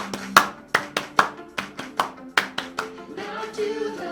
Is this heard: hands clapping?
yes